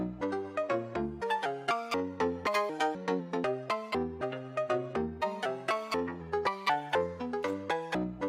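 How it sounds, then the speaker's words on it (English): A choppy melodic loop pitch-shifted in the Loopmix iOS app plays as a rapid run of short synthetic notes at shifting pitches, steady and rhythmic with no talking over it. "So we're getting a pitch shift up there, changing the pitches of these."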